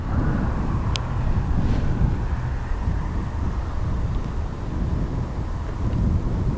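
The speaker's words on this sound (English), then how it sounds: "There's a Ryanair taxiing out now." A Ryanair jet taxiing at Dublin Airport gives a steady, fairly loud low rumble that holds for the whole stretch, mixed with gusty wind buffeting the microphone.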